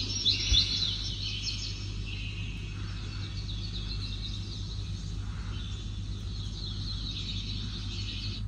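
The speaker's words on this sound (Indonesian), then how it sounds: "fitur sleep meditation, seperti suara air sungai dan burung berkicau, dan suara alam di hutan" Birdsong chirps and tweets sound from a sleep meditation nature-sound feature in a mountain cabin at Gunung Mas, Puncak, Bogor. The calls stay faint and repeated over a steady low hum, with no talking.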